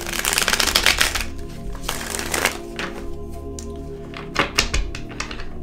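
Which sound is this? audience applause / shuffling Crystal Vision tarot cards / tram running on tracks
shuffling Crystal Vision tarot cards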